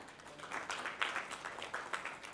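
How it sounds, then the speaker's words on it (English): Applause from a conference audience welcoming Prateek Mehta, CEO and co-founder of Contiinex, to a speech AI talk: a steady, fairly faint wash of many hands clapping that runs throughout. "Can we have a big round of applause for Mr."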